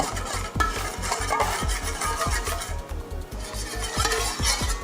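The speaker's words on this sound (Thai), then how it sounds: "เดี๋ยวคนทุกอย่างให้ละลายดีก่อนนะคะ" A spoon stirs a dressing of lime juice, sugar and pickled cabbage brine for a dried shrimp salad, making steady rhythmic scraping and clinking against the bowl, close and even, with no voices.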